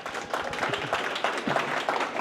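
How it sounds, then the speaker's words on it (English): Applause from a modest crowd, steady clapping that continues throughout at a moderate level. "so a little round of applause"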